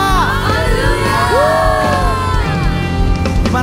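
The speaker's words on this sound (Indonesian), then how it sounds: "Boleh sekali lagi kita kasih tepuk tangan buat Tuhan Allah kita saudara." A church congregation roars with cheering, whoops and shouted hallelujahs, a loud dense crowd of voices sustained from start to finish.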